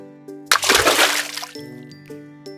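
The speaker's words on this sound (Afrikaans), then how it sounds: "Pappa val in die water." A person falls into water beside a rushing waterfall in an animated children's story, making one loud, close splash with sloshing that fades over about a second, set against soft sustained music.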